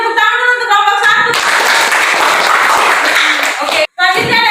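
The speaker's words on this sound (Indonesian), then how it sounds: "Semuanya tepuk tangan dulu untuk kelompok 1" A classroom full of people claps steadily for a few seconds after a group presentation, with voices speaking before and after the applause.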